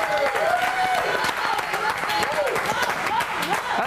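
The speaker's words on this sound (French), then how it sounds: "Bon applaudissement." An audience applauds at a fashion show on a Quebec reality program, sustained clapping mixed with music and crowd noise, with tonal sweeps running underneath.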